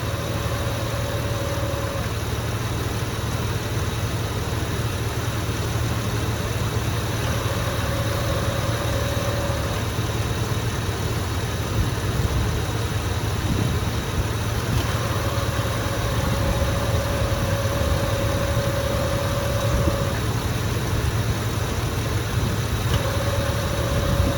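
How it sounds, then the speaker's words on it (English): A 2004 Jeep Wrangler idling with its A/C compressor cycling on, a steady low engine rumble with a faint tone that switches on and off several times, close and continuous without talk. "The compressor is engaging more frequently now."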